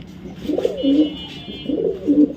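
Racing pigeons give two close, soft throaty coos in a row, the second echoing the first after a short pause.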